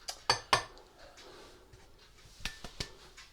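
A utensil mixing butter and sugar in a bowl, with a few sharp clinks against the bowl and some softer scraping between them, close by and with no talk.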